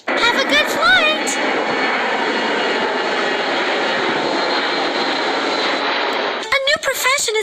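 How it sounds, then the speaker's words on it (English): A video game airliner's engines roar at maximum takeoff thrust, a loud steady broadband rumble with a high whine that holds for several seconds, with brief game effects at the start and end. "Raise the engine thrust. Engine thrust is maximum now."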